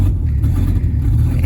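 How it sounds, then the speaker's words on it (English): The V10 engine of a Ford Super Duty truck runs loud and rough up close, a dense low rumble with a slightly uneven pulse across a brief stretch. "A very loud running V10"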